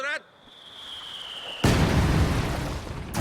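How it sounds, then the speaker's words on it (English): Mortar barrage explosions in a strategy video game hit as a sudden loud roaring blast that sustains and rumbles, preceded by a rising whistle. "time to stop the mortar barrage"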